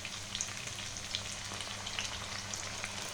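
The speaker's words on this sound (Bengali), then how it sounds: "আলু, পেঁয়াজ আর টমেটো একসাথে ভেজে নিচ্ছি" Potatoes, onions and tomatoes with a bay leaf fry together in a pan, a steady soft sizzle with scattered crackles and pops, close and fairly quiet, with no voices.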